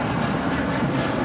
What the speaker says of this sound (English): You have a United a Dreamliner now rolling.